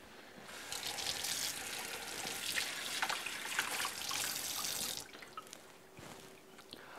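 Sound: rinsing a ladle under running tap water

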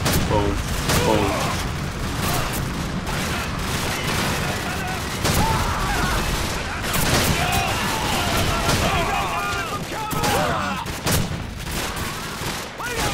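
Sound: W1200 shotgun gunfire in video game Call of Duty 4

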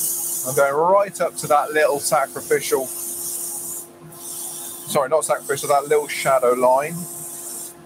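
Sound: sanding wooden bowl with 100 grit sandpaper

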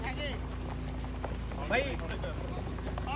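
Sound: horses walking, hooves clip-clopping on farm ride

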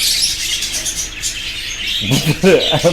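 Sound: budgerigar and cockatiel chirping

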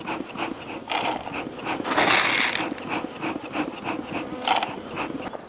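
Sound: honeybees buzzing at the hive

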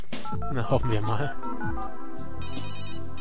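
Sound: phone ringing in a video game

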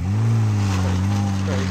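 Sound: rally cars zooming past at a rally

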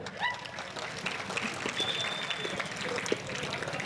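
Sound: audience applause

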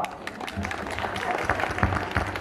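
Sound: audience applauding the preschoolers

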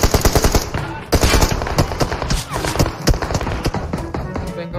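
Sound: gunfire in a battle royale video game

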